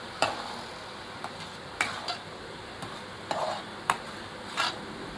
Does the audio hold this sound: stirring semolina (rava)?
yes